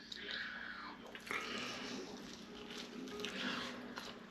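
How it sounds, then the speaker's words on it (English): Close crunchy bites and chewing into Korean fried chicken, with crisp crackling bursts and wet mouth sounds in a quiet room. "I'm just going to taste this chicken now."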